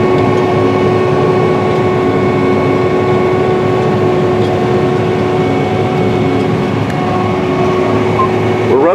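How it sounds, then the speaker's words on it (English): A John Deere 9100 4wd tractor pulls a Salford tillage implement working up ground at just over 6.5 mph, its engine a loud, steady drone with a constant tonal hum and rumble throughout. "This tractor is pulling the Salford"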